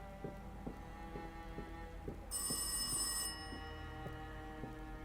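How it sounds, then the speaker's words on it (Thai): A telephone rings in the horror video game Rise of Insanity, a steady repeating electronic ring with evenly spaced bursts over a low ambient drone, with one brighter, louder ring partway through and no talking. "เสียงโทรศัพท์อีกแล้วอะ่ะ"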